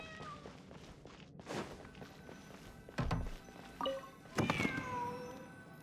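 Cat meowing from somewhere behind a painting in a palace in Genshin Impact, a few short separate meows with thunks between them, moderately close, with no talk over them.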